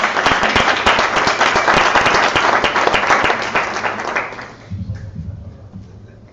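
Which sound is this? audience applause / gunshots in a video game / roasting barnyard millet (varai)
audience applause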